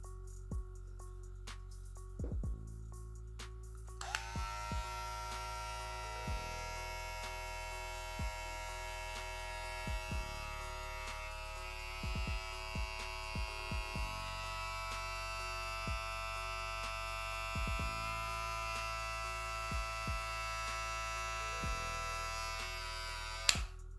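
A Wmark NG 208 hair clipper runs steadily close by, a continuous electric hum with a bright buzzing whine that starts a few seconds in and holds level, with small clicks and handling taps throughout.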